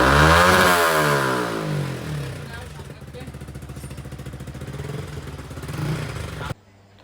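A modified motorcycle's engine is revved hard during a test run, then falls back through a steady idle and a few smaller blips before cutting off abruptly near the end.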